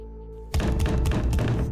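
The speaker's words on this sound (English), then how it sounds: "the banging started again, loud enough to drown out my voice" After a brief quiet hum, heavy dull thuds pound rapidly and loudly on a wooden door, continuing for over a second.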